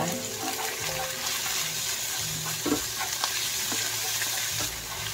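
Fish fried with chili garlic sauce is stirred in a pan, giving a close, continuous sizzle with scraping stirs and a few clinks against the pan.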